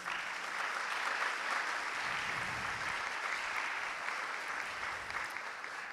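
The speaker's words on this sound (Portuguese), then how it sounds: "uma salva de palmas." Audience applause welcoming a historian from Universidade Católica Dom Bosco as mediator at a talk with Jessé Souza, a continuous even wash of clapping from a crowd, heard at a distance and fairly quiet.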